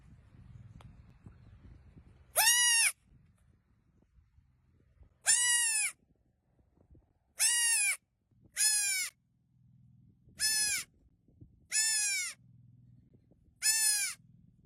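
Baby goats bleat in a series of seven short, high, wavering cries spaced a second or two apart, loud and close against quiet background hum.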